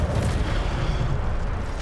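Incendio fire spell cast in Hogwarts Legacy, a dense low booming burst of flame that fills the moment with a rumbling, explosive roar.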